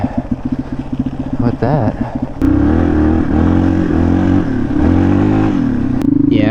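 Motorcycle engine idling and revving on an ice-covered road, loud and close, with steady throbbing harmonics rising at each throttle blip while someone talks over it.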